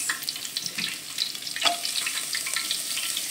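Onion and carrots stir-fry in a pan with a soft, close sizzle, broken by light stirring clicks and a few sharper knocks, and nobody speaks.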